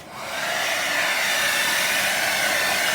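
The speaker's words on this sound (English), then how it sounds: "Now I'm just hoping to goodness that my blow dryer doesn't blow it all over the studio." A blow dryer runs steadily at close range, a loud continuous airy whoosh with a rising hum as it spins up at the start and then holds constant throughout, with no one speaking.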